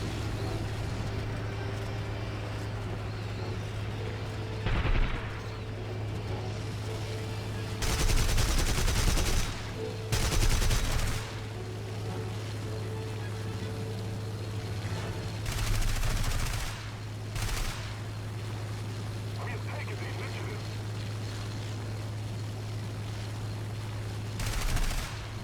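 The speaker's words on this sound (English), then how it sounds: "Now I've managed to do a little bit of damage with my machine guns" Repeated bursts of machine gun fire from a Bf109 E-3 fighter in the War Thunder flight game, four or five loud rattling volleys of one to two seconds each over a steady droning aircraft engine.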